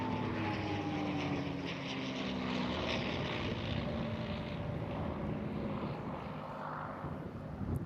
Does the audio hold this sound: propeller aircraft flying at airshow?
yes